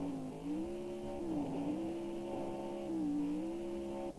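A car engine drones steadily while driving in Next Car Game, a video game. Its pitch dips and recovers a couple of times as the throttle shifts, with a faint wash of road noise beneath and no talking.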